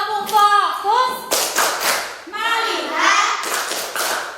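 A primary school class claps a rhythmic focus pattern in sharp bursts, with a teacher and children chanting along in sing-song voices between and over the claps.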